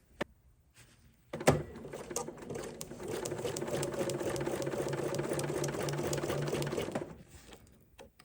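A sewing machine stitches along the sashing of a fabric potholder, a close, steady mechanical whirr running for several seconds after a few clicks, then slowing to a stop.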